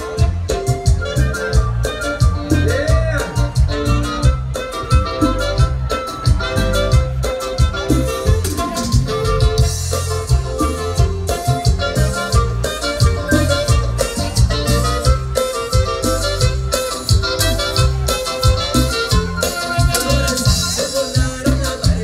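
Music for couples dancing plays steadily and loudly throughout, with a dense, rhythmic band sound and a prominent melody over a driving beat.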